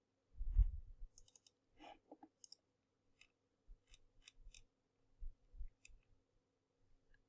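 A computer mouse clicks at a desk, a scattered series of quiet sharp clicks, some doubled, with faint low thumps between them in a silent room.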